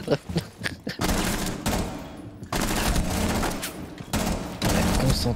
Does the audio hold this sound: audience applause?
no